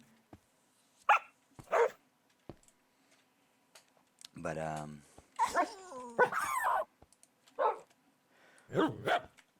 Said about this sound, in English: all these dogs are taking me off my fucking train of thought